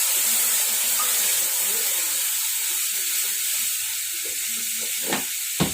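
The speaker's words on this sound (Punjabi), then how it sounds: "ਹਲਕਾ ਜਿਹਾ ਮੈਂ ਨਾ ਪਾਣੀ ਪਾ ਕੇ ਇਹਨੂੰ ਨਮਕ ਦਾ ਮਿਕਸ ਭੁੰਨਾਂਗੀ" Spice mix of salt, chili and turmeric with a little water roasting in a pan, giving a constant bright hiss and sizzle up close, ending with a couple of sharp utensil clinks and no talking.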